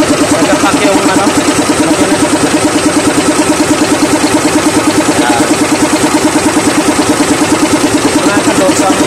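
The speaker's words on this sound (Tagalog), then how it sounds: "pansin nyo yan, sobrang ingay. Yan, maingay, nagapak. Diba? Nagapak yung makina." An SDLG wheel loader's diesel engine idles close up with a loud, fast, steady knocking pulse running through its rough, heavy rumble the whole time.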